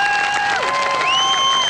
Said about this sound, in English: The wave of adulation and admiration from this Opera House crowd